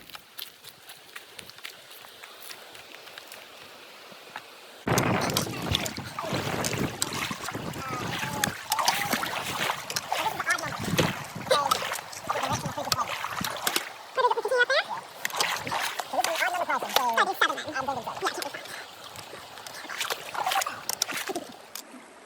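Hikers splash through a stream crossing on the Ouachita Trail, repeated wet footsteps and sloshing water close by, uneven and continuous after a quieter start.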